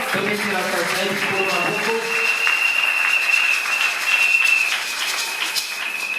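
Congregation at a religious wedding clapping together, a sustained applause with a bright tonal ring running through it, lasting steadily throughout.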